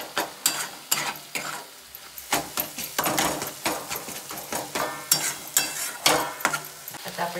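Onion and garlic stir-fry in hot oil for a wild-vegetable dish, with loud, rapid, rhythmic scraping of the utensil against the pan over a crackling sizzle.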